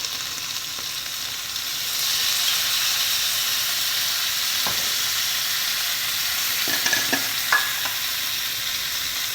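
Baby corn Manchurian sauce with ketchup, vinegar and sugar hisses steadily in a hot pan, with a few spoon scrapes and taps near the end.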